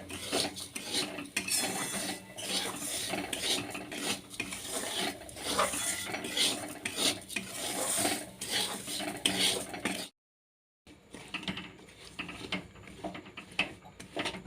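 Sesame seeds and sugar being stirred in a pan for a Sankranti sweet: a steady, busy scraping and clinking of a spoon against metal, close and continuous, briefly cutting out before resuming.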